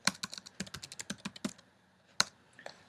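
Quick computer keyboard typing while entering C# code: a brisk run of about a dozen crisp keystrokes, a pause, then a couple of isolated key presses, close and clear with no voices.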